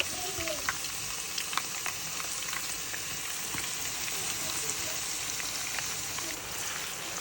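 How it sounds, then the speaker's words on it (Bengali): Chopped onions sizzle and fry in hot oil with whole garam masala for a chicken kosha curry, a steady close crackle with occasional sharper pops, no voices. "অনিয়নগুলোকে সুন্দরভাবে ভেজে নিতে হবে।"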